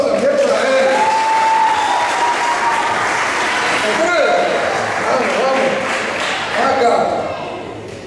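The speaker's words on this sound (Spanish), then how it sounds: "Un aplauso también para él." A church audience applauds during a Spanish-language sermon, a broad, steady wash of clapping running the full length with crowd noise and voices mixed in, swelling again near the end.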